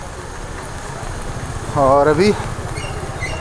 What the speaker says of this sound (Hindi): बारिश तो देखो अच्छा ही हो रहा है, अच्छा खासा हो रहा है।